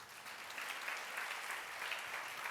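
A church congregation at a Sunday service in Ramagundam applauds with a steady, even wash of many hands clapping together, somewhat distant and sustained throughout with no talk over it.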